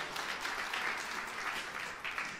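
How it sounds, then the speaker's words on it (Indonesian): A church congregation at a service applauds, a steady, moderately soft wash of clapping with a few louder bursts. No one speaks over it. "Tepuk tangan yang meriah untuk kemuliaan Tuhan."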